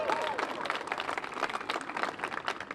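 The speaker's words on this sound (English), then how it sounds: "Let's give the Native American Spiritual Wellness Center a big round of applause." A crowd applauds the Native American Spiritual Wellness Center at a neon sign revival event at the Avenue Theater in Portola, with steady, fairly soft clapping and some voices mixed in throughout.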